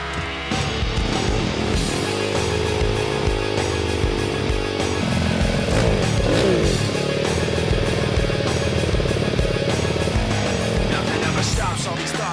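A racing motorcycle laps a race track in a sustained, loud engine drone, its pitch shifting with gear changes and throttle as it carries through the lap, close and continuous with no voices.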